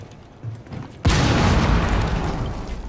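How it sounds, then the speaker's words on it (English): A frag grenade detonates in Rainbow Six Siege: after quiet ambience, a sudden loud, close boom breaks out and trails into a sustained roaring rumble of debris. "Throwing frag."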